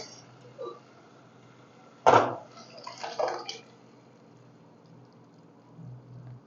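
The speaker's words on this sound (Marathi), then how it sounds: "चला आपण याच्यामध्ये डाळ घालूया" Thick cooked dal is poured from a vessel into softened tomatoes in a pan, making a wet splashing plop, then a second smaller slosh, against a quiet kitchen background.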